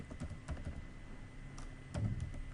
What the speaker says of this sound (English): So I'm going to type sheets,